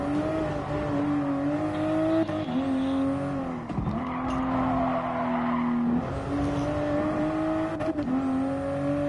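Race car engine in a video game lapping the Nürburgring, a loud, steady engine drone whose pitch dips and rises through corners, with brief tyre-skid sounds during a slide.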